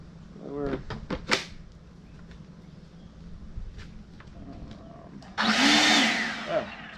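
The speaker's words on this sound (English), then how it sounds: "let's try the blower out real quick here" A Kobalt 24-volt cordless leaf blower spins up for about two seconds, a loud steady whooshing rush close by, following quieter clicks and handling noises, with someone talking in between.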